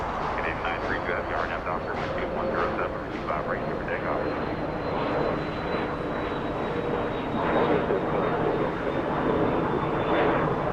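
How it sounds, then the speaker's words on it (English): A China Southern Cargo freighter arriving at Los Angeles International Airport from Anchorage, its steady engine roar filling the scene with a faint high whine, while people talk over it throughout. "China Southern Cargo flying in from Anchorage,"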